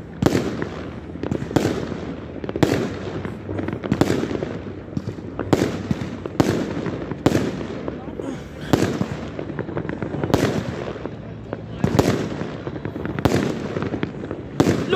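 New Year fireworks over a city, sharp loud bangs repeating roughly every second over a steady background rumble of more distant crackling, with no talk.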